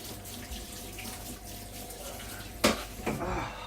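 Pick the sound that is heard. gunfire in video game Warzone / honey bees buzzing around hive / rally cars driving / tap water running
tap water running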